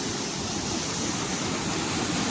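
Water pours out under a small dam gate, a loud, continuous broadband rush with no breaks and no voices.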